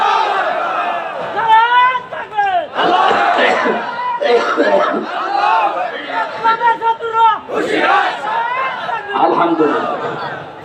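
A large crowd at an outdoor religious sermon shouts takbir in loud, repeated call-and-response bursts, many voices rising together in rhythmic chant-like waves, near and dense throughout.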